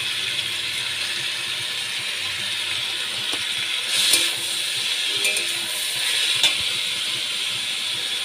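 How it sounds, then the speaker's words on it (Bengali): Cabbage stir-fried in a pan with turmeric and salt, a steady close sizzle and hiss throughout, with a few faint scrapes and clinks of stirring. "বাঁধাকপি আমি ভালো করে কষিয়ে নিচ্ছি।"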